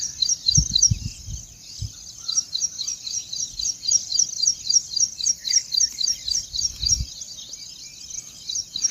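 Birds chirp in a steady, rapid, repeating pattern after rainfall in green rural countryside, the calls continuous and fairly close, with a few low thumps underneath.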